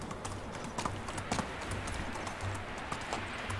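Horse hooves clop in a quick galloping rhythm while riding in the medieval survival game Medieval Dynasty, a steady run of close, crisp hoofbeats with faint background ambience and no talking.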